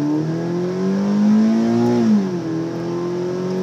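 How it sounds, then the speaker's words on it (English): A Subaru BRZ accelerates on a race track, its engine note a steady droning hum that climbs in pitch, briefly dips near the end, then settles into a sustained pull, heard close from inside the car. "So go ahead, get in the throttle."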